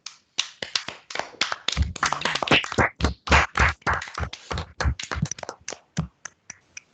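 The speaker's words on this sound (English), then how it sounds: "give our speakers, Fionntan and Andy, a round of applause for their great presentation" Webinar attendees clap after a presentation, with a scattered run of individual claps and taps from several unmuted participants, close and uneven, with no voices.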